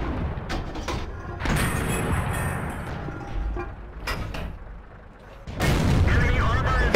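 The SU-122-44 tank destroyer's gun fires in World of Tanks, heavy booms and blasts rumbling over continuous battle noise with a commentator talking throughout, loud and close.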